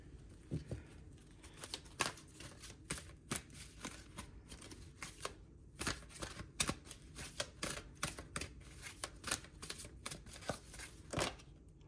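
Playing cards handled and shuffled during a reading, with repeated crisp riffling snaps and flicks in irregular bursts, close and clear over a quiet background.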